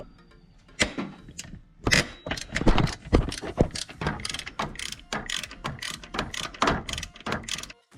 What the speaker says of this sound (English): I'm gonna go ahead and remove that top bolt from the alternator,